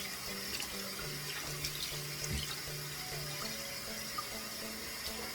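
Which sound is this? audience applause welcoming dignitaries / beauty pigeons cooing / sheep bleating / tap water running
tap water running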